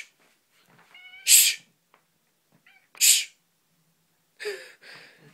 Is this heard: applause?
no